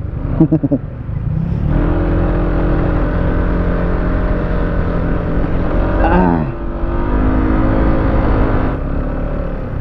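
An FKM Slick 150 motorcycle engine revs up with a steady, aggressive drone that rises in pitch and holds loud, close to the microphone, after a few brief sputtering pulses at the start.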